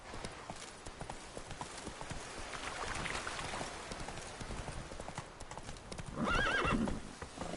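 Roach the horse from the video game Witcher 3 Blood and Wine gallops in a steady run of clip-clop hoofbeats under ambient noise, with a distinct neigh breaking through near the end.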